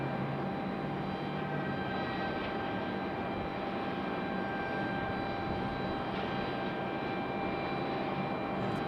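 Steady, sustained roar of an Air Canada airliner departing Raleigh Durham airport, a distant unbroken engine drone with faint tonal whine, no voices.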